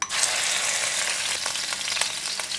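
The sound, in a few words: minced pork frying in onion oil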